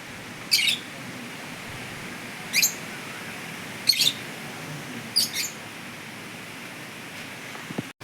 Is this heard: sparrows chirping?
yes